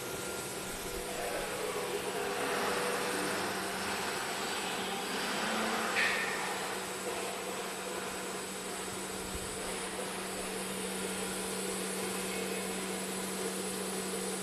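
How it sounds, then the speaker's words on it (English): An aluminium curtain wall machining center with its number 1 blade mills an aluminium profile, giving a steady, loud whine with a constant hum under it that barely changes from start to finish. "we change to the first, the number 1 blade, and then start milling of this first"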